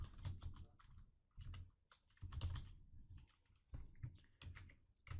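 A sample rule name is typed on a computer keyboard in quick clustered bursts of close, crisp keystrokes, pausing briefly between words, with no voice over them.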